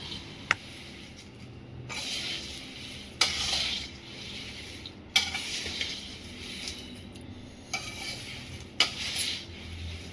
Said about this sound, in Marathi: पोह्यामध्ये ना आपण जो बनवलेलं मिक्सर आहे ना तळलेलं ते टाकायचं आणि याला ना असं व्यवस्थित मिक्स करायचं